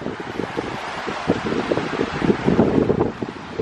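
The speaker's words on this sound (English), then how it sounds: "It's super windy" Gusty wind buffets the microphone, a steady roaring rush with rising bursts of rumble, loud and close, no voices.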